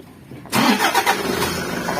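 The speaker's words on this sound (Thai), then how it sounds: "สตาร์ทเครื่องขึ้นไปเลยนะครับ" A Toyota Hiace van's engine fired by a push-start button: quiet at first, then it cranks and catches abruptly at about half a second and keeps running with a loud, steady idle, no talking.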